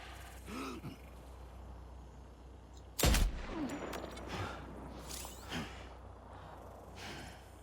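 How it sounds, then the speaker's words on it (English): A single sharp gunshot fires in the video game Death Stranding 2, a loud crack about halfway through over steady background game ambience, with brief fainter vocal sounds before and after. "they heard a gunshot"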